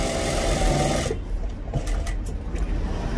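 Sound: sewing machine stitching a gents kameez gera

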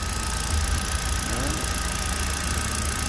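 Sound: Kia Morning 2014 petrol engine idling

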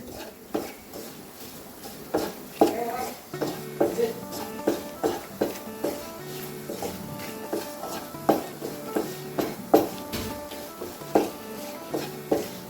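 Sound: spices being roasted in a pan for Tamil Nadu tiffin sambar

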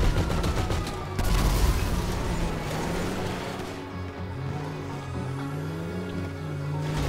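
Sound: gunfire in the video game Grand Theft Auto V

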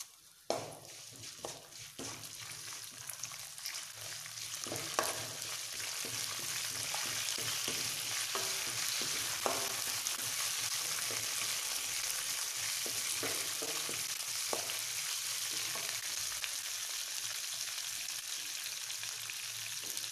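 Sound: curry leaves and dried red chillies roasting in a pan

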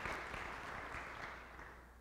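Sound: church audience applause

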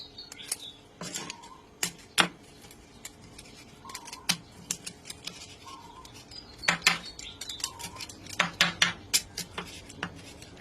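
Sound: knife cutting crispy pork

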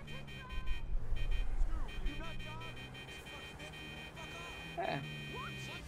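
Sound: car horns honking in video game GTA V

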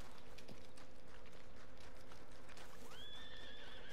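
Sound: horse neighing and whinnying on a trail ride

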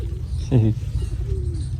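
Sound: pigeons cooing

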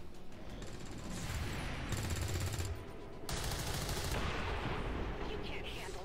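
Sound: suppressing gunfire in video game XCOM 2

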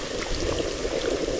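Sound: fish frying and sizzling in a pan

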